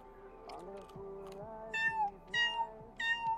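In The Sims 4, a cat gives several distinct meows in close succession, rising and falling in pitch, with softer game sounds between them and a voice faintly in the background.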